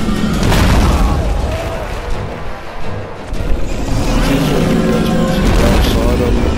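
Loud booming blasts in the Dead Space 3 co-op game, a heavy explosion followed by rumbling debris and a second burst near the middle, with dense action noise throughout.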